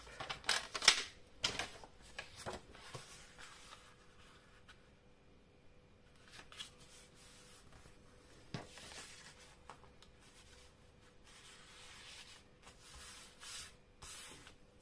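Paper cards for a large photo album being cut, quiet scattered scraping and clicking strokes with a few sharper snips, close by and otherwise hushed.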